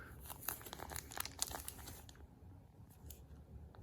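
Plastic wrapping around a Dell XPS laptop is crinkled and pulled during unboxing, a close, quiet series of rustles and crackles that thin out into softer handling noises after a couple of seconds.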